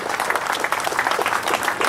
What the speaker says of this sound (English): How about another nice round of applause for Cami?